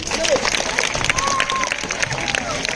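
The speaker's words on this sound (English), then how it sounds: "Very good. Clap for her." A classroom of students in an English lesson claps for a classmate's correct answer, brisk, dense hand-clapping that fills the room for a few seconds with voices mixed in.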